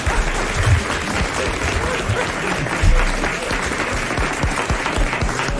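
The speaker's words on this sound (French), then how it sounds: "On applaudit la petite fille." A television audience applauds a little girl, producing steady, dense clapping close and loud throughout, with a couple of low thumps near the start.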